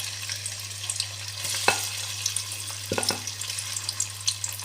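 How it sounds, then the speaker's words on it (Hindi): Grated potatoes frying in ghee in a wok, a soft, steady sizzle with light stirring scrapes and a few sharper clinks of the spoon against the pan, alone and close. "आलूओं को हमने अच्छी तरह भूनना घी में।"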